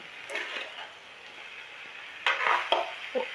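Spiced cauliflower sabzi, cooked with Kashmiri masala, is stirred in a pan, making soft scraping and clattering spoon strokes over a faint sizzle, with a few louder scrapes toward the end.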